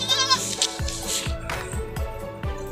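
Boer and Anglo-Nubian goats bleat repeatedly at close range on a farm while feeding, their wavering calls overlapping amid rustling and thumping movement from the animals.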